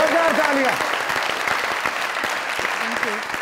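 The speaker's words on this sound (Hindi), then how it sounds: "जोरदार तालियां" A studio audience at the Mazaq Raat comedy talk show breaks into loud, sustained clapping, a thick continuous patter that thins slightly toward the end, while a voice speaks over it at the start and briefly near the close.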